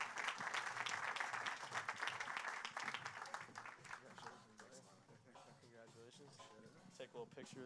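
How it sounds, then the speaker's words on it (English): An audience at a tech center spring summit gives a quick round of applause: dense, full clapping for about four seconds that fades as a voice starts speaking. "So quick round of applause for Charles and Chris here."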